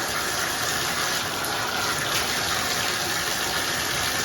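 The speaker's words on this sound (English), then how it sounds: "Now we're getting like lukewarm water again." Lukewarm tap water runs steadily from a faucet for rinsing imported houseplants, a continuous close, fairly loud gushing hiss that holds even throughout with no talking over it.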